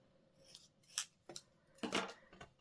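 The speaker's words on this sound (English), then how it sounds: "trim just a little off of the bottom of each heart so that that point doesn't show" Scissors snip paper hearts for a handmade card in a few quick, crisp cuts, close and fairly faint, with a longer rasping cut near the end in an otherwise quiet room.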